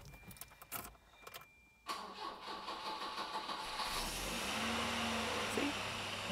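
A car engine starting and settling into a rough idle on bad engine mounts, with clicks and rattles at first, then a steady low running drone that holds to the end.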